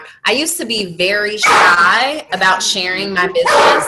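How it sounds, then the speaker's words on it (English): A dog barks and yips repeatedly in the background of a home setting, close and fairly loud, under and between a woman's continuous speech. "pardon my dog in the background"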